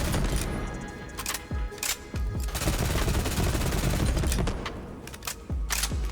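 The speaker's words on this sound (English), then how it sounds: "if you switch over to the double barrel mode, you get through your ammo considerably quicker in half the time, because you're firing out twin rockets every single time" Rapid twin-rocket volleys from a double-barrel rocket launcher in Borderlands 3, loud repeated bursts and blasts layered densely over a continuous game soundscape with no talk.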